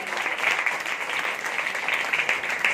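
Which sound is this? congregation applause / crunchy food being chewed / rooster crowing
congregation applause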